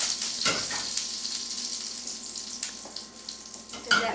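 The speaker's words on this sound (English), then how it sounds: "I put in a tablespoon of butter for flavor and a tablespoon of olive oil so that my butter doesn't burn" Butter and olive oil sizzling in a very hot pan for a cheesesteak, a steady close hiss with faint crackles and a few soft utensil clinks, no talking.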